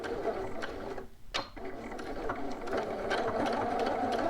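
A sewing machine whirs and clatters through a short back stitch at the start of a bodice seam, a close mechanical run broken by a brief pause before it picks up again.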